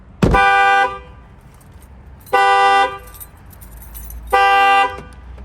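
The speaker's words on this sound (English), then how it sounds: "you're gonna see that the factory alarm is gonna set off" A Ram Promaster City's factory alarm, set off by its shock sensor, honks the horn three times in a steady alarm pattern, each blast about half a second long and spaced roughly two seconds apart, loud and close.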